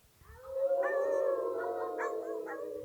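A human voice imitates a wolf howling in a long, sustained, wavering howl with rising and falling pitch, loud and close, with no other talk.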